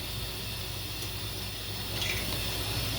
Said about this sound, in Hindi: इसमें मैं आधा कप ऑयल डाल दूंगी।